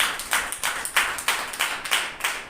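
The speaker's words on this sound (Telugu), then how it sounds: "చప్పట్లు కొట్టి" A church congregation claps in a steady rhythm, loud and close, about two claps per second with no speech.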